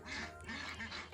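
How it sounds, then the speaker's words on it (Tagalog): Pekin ducks quacking in a backyard farm pen shared with native chickens, several rasping quacks in quick succession, close but fairly quiet. "At ito nga po pala yung aking mga bibe at mga peking duck."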